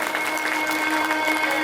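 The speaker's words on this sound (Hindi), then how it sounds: "जोरदार ताली बजा के उनका स्वागत आप लोग भी करें।" Audience at a Gayatri Parivar devotional lamp-lighting ceremony applauding loudly, a dense continuous patter of many hands clapping with a faint murmur of crowd underneath.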